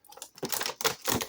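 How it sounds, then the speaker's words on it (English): Heavy duty art scissors snip through a plastic bubble wrap package in a few quick, crisp close cuts with short crackling rustles between them. "of course I got my heavy duty art scissors right here to pop them out"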